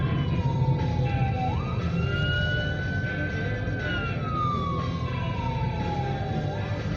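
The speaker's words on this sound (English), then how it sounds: "Ambulance coming on the right here." An ambulance siren wails with long rising and falling tones over steady road and engine noise, fairly close and continuous.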